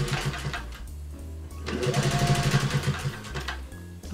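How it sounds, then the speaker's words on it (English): A sewing machine stitches a guinea pig cuddle cup bed in short bursts of rapid needle chatter, close and clear, with brief pauses between runs. A soft voice may murmur faintly underneath. "And we continue sewing."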